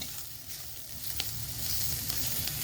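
Onions sizzle gently in a hot pan as they wilt and begin to brown, a steady soft crackle with a few faint ticks and stirring scrapes, no voices.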